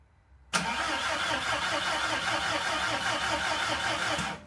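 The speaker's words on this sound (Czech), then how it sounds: "A ten motor kež točí tak divně." Car engine cranking with a rapid, uneven rhythmic churn that starts abruptly, runs continuously for about four seconds without catching, then cuts off; loud and close.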